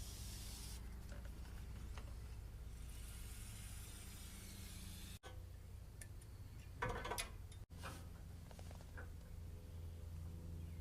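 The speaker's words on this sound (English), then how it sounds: "So I just lightly spray them with brake clean." Brake cleaner hisses from a can onto the brake rotors of a 2000-2006 Toyota Tundra, a near, continuous spray broken by short gaps and a few clicks and rattles of handling in a garage.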